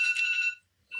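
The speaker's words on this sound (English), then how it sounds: "No, that's my alarm going off." A bedside alarm going off, a loud, steady electronic beeping with bright high tones that sounds for about half a second, stops, then resumes briefly near the end. Nobody speaks over it.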